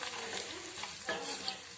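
Ground gravy masala paste for a spicy jackfruit curry frying in oil, a close, constant crackling sizzle with stirring scrapes throughout the short clip.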